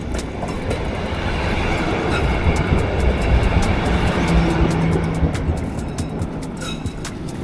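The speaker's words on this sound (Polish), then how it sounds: "To był tramwaj, którym mogłem jechać, ale jechał nie w tą stronę" A Prague tram rolls past up close, a steady loud rumble of wheels and rail noise with faint clicking that swells and eases slightly over several seconds, with no voices.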